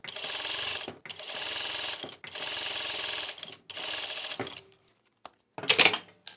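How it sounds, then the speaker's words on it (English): A sewing machine stitches along a folded crease line in fabric, running in three steady bursts of rapid needle clatter separated by short pauses, then slowing to a few scattered mechanical clicks and a brief final burst. "I'm opening one of the folds here and sewing on this crease line"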